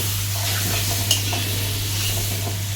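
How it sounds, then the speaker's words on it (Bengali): Raw mango chunks are stirred in a pan for Bengali chutney, a soft sizzle and scraping with a few light utensil scrapes over a constant low hum, and no talking. "এইভাবে এখন ভালো করে নাড়াচাড়া করব"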